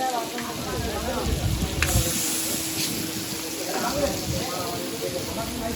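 Meat frying in oil in a pan at a street food stall, a steady loud sizzle running throughout beneath talking voices.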